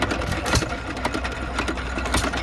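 An antique Economy hit and miss engine runs steadily, its quick chugging and periodic firing beats loud and close at an outdoor tractor show, with other engine noise blending underneath.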